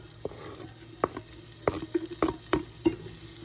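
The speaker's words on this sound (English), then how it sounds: "now we're gonna add in our onions" Onions frying in a pan for a homemade tomato sauce: a steady low sizzle with a handful of sharp scraping and stirring knocks from a utensil against the pan, close and fairly quiet.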